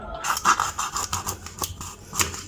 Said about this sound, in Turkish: Önce balığın kafasını şöyle uygun yerine kesiyorum